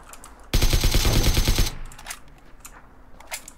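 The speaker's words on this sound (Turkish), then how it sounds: "Şu pompalı sesi acayip tırstırdı beni." Gunfire in the video game PUBG, a single loud burst of rapid shots lasting about a second, followed by faint clicks and handling noises.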